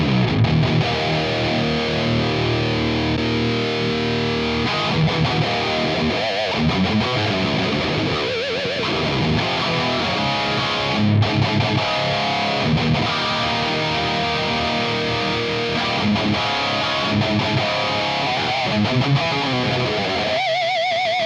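A heavily distorted electric guitar plays through a Peavey Invective 120 amplifier with its internal boost engaged, a dense, loud, continuous wall of chugging riffs and sustained chords with no talking.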